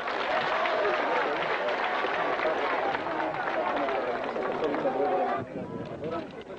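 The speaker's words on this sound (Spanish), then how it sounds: "Aplauso, aplauso." Crowd applause during a 1990 indigenous uprising gathering as officials sign documents, a rough, steady clatter of hands that thins out near the end, with voices talking over it.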